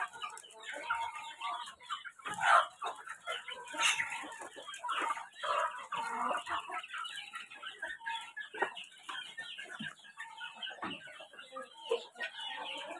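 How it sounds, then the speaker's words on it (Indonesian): Well-fed free-range village hens cluck and chatter near and far in a farmyard, with overlapping calls and an occasional louder squawk throughout, fairly quiet overall. "Nah, gemuk-gemuk ini ayam-ayam yang"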